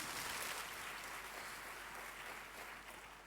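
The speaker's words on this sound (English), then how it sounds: "A round of applause for our keynote speakers." An audience applauds keynote speakers at a church conference's Q&A session, broad steady clapping that holds for the whole span and thins slightly toward the end.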